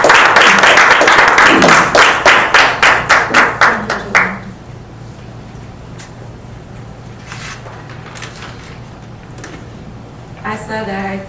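Small audience applauding at a Toastmasters club meeting, a short round of distinct hand claps that fades out over about four seconds, followed by quiet room tone with a few scattered taps and brief murmurs.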